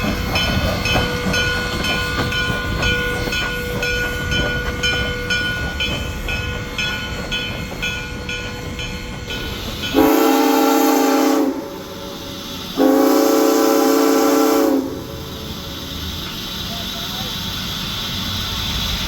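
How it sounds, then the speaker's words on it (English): A Great Smoky Mountains Railroad train in the mountains, its whistle sounding in two loud long blasts over steady rumbling engine and rail noise, with voices present in the background. "Great Smoky Mountains Railroad for the moonshine experience"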